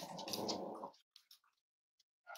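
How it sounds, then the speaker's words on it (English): A Cavalier King Charles Spaniel growls low at other dogs while eating, a close rumbling burst followed by quiet with a few small snuffles and clicks, then the growl returns. "Stop growling at everybody and eat it."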